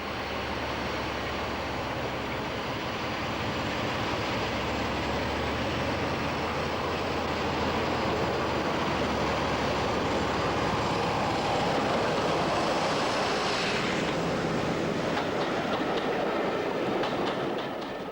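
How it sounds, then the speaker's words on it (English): A D4 diesel locomotive hauls a train through Butterley Cutting towards Swanwick, its steady engine drone loud and continuous alongside rolling wagon noise and clickety-clack from the rails, building slightly as it passes. "the loco moves through Butterley Cutting to Swanwick"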